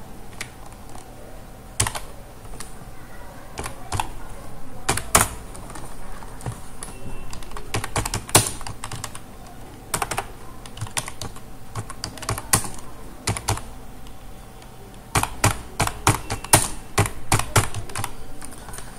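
Rapid bursts of typing on a computer keyboard while entering text in Notepad, crisp close key clicks in irregular clusters with short pauses between runs.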